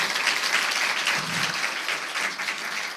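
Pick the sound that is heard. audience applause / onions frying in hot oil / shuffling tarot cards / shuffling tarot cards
audience applause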